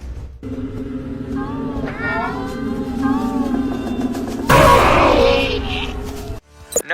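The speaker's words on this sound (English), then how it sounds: "It is Smile Cat" Cartoonish meowing voice of the Smile Cat character, a steady drawn-out cat cry with wavering pitch over a droning backdrop, ending in a loud noisy burst.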